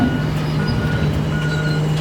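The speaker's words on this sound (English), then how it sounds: "we'll walk back here to the trailer and hear that floor moving" A trash trailer's moving floor runs with a steady, continuous mechanical drone and a constant low hum, loud and close, with no talk over it.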